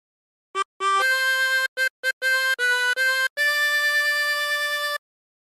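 Solo harmonica plays a short phrase of Home on the Range, several clean sustained blow and draw notes with brief gaps between them, the last note held longest, close and loud with no talking.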